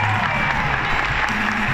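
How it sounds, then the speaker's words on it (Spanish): A crowd at an anime and cosplay convention applauds a costumed contestant, a brief dense wash of clapping mixed with crowd noise and a low voice or hum underneath. "un aplauso para él"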